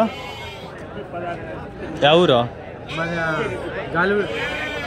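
Sheep bleat repeatedly at a busy Saturday-morning sheep market in Angallu, several loud, close cries rising over a background of crowd chatter and voices.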